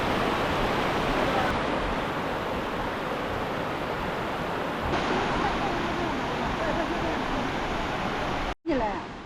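Waterfall in Jiuzhaigou, China: a dense, steady rushing roar of falling water, loud and constant, cut by a brief sharp dropout just before the end.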